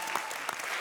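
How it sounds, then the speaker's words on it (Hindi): Audience applause at a televised comedy show, a dense steady wash of clapping from a studio crowd, loud and continuous throughout the short burst. "तालियां"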